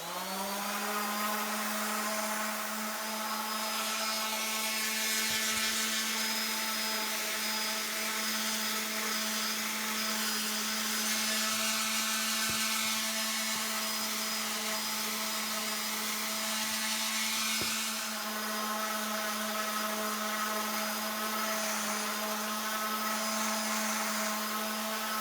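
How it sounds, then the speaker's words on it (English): An electric sander runs steadily on a wooden theatre-prop cabinet being refinished with 220 grit sandpaper to dull the shine before painting. The drone is loud and continuous, with a few faint knocks along the way and no talking. "So I'm sanding all sides and edges because eventually the whole thing will get painted,"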